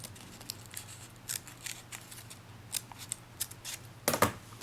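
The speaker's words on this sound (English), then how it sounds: "just go ahead and take your scissor and just cut it along the center crease" Scissors snipping through origami paper along a center crease, a series of short crisp cuts at irregular intervals, close and fairly quiet, ending in a louder snip.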